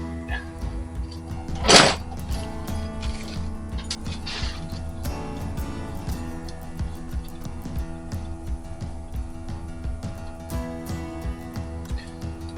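A wrench tightening a banjo fitting on the hydraulic line of a Honda Shadow Ace 750 lowrider gives one sharp metallic click near the start, then only a steady low workshop hum.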